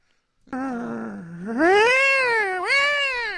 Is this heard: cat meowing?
yes